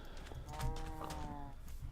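A single short, low moo from a Minecraft cow, faint and heard alone.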